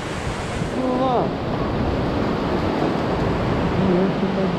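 Ocean waves washing through the space under a pier make a loud, constant roar of surf and rushing water, with wind buffeting the microphone and faint distant voices or cries mixed in.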